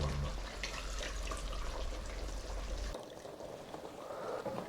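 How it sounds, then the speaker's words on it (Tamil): Hot water pours into a simmering fish curry, a close, continuous gurgling splash that stops partway, leaving a softer bubbling. "சுடு தண்ணி தான் ஆட் பண்ணுறேன்"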